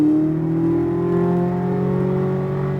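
Corvette Z06 on a race track, engine note rising steadily as it accelerates hard, loud and close from inside the car with strong harmonic drone and no talking.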